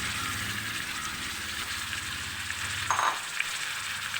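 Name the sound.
crushed shallots added to sizzling garlic and ginger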